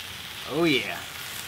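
Homemade Canadian bacon sizzles in a frying pan in a short, close burst of crackling that swells briefly, with a voice sounding over it for a moment.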